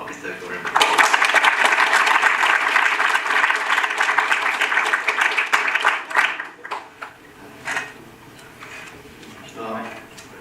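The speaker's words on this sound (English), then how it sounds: "can I have a round of applause for Mr. Goh Ren" Audience at a student union presidential election clapping for a candidate, a dense burst of applause that thins into scattered claps after about six seconds.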